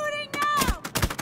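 In The Division 2, a short voice line gives way to a few sharp bursts of gunfire, close and punchy, spaced irregularly over a second.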